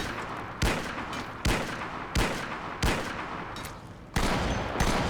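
Heavy gunshots in Project Zomboid boom one at a time at roughly regular intervals, each a loud close blast with a decaying tail, the last few coming slightly faster.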